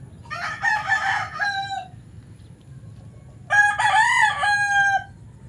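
Two loud rooster crows, one after another with a brief pause between, close by over faint background noise.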